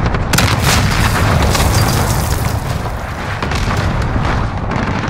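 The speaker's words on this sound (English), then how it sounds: "Enemy cruise missile incoming!" A cruise missile explosion in Call of Duty: Modern Warfare lands as a loud, sustained booming roar with rumbling debris that fills the whole stretch.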